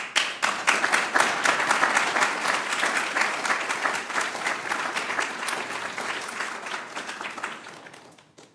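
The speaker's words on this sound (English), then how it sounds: "Please join me in a round of applause." Round of applause from the audience at a Distinguished Service Cross presentation ceremony: sustained, even clapping from a sizable crowd that holds steady for several seconds before tapering off at the end.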